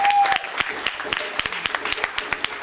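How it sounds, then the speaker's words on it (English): An audience at a MOVE event claps in a round of applause, sharp individual hand claps ringing out at a brisk, uneven rhythm from a modest crowd. "Give yourselves a big round of applause."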